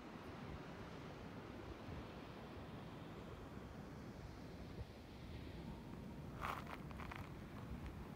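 Water lapping and washing at the Club La Santa lagoon in Lanzarote, an outdoor open-water swimming spot, heard as steady surf-like wash mixed with wind noise and a brief clatter near the end.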